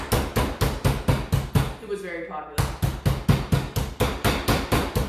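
Steady rhythmic pounding of a meat mallet on chicken breast, about three thuds per second, loud and close, pausing briefly while someone speaks, then resuming.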